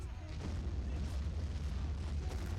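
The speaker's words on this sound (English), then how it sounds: "I'm hearing explosions, but I'm not seeing people." Dull booming explosions in the video game Men of War rumble continuously, heavy and low, blending into a dense wash of distant blasts.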